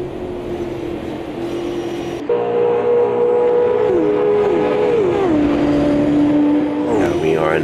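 A 2024 stock car engine in Automobilista 2 oval racing drones loud and close, a steady high roar with pitch shifts as it shifts gears and eases off, with speech over it.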